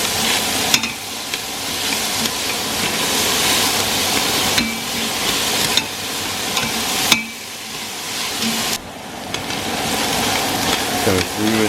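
A pot being heated with olive oil for a chicken dish with garlic and ginger, heard as a continuous sizzle with scraping stirs, clanks and knocks against the pot every few seconds, and some speech over it.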